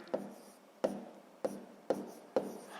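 A pen writes a fraction by hand on paper, giving five short scratchy strokes spaced about half a second apart, faint and close with no talking.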